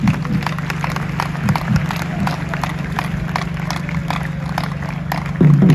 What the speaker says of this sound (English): shall we all be upstanding as we applaud our President